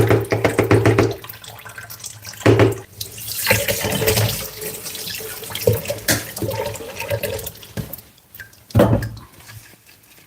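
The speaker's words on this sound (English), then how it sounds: "First, I'm gonna do some washing here" Running tap water at a kitchen sink during washing, splashing and gushing in irregular bursts as items pass under the stream, close and moderately loud, with no talking.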